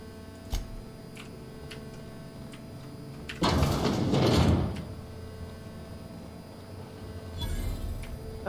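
A sci-fi door in The Outer Worlds video game slides open with a loud mechanical whoosh lasting about a second, set among quiet ticking and clicking machinery and followed by a softer mechanical hiss.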